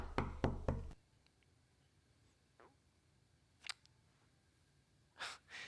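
A trick-or-treater raps on a door, three quick loud knocks at the start, followed by a quiet room with a few faint scattered taps and rustles.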